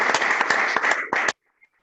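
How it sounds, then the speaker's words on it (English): Audience applause for Professor Mintzberg at the close of a conversation, a dense burst of clapping that runs for over a second and then cuts off abruptly into silence. "I think you deserve a big applaud"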